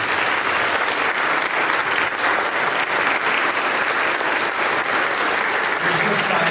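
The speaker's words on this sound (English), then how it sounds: "let's just give a round of applause." A church congregation applauds during a worship service, steady loud clapping from many hands sustained for several seconds, with a voice faintly under it.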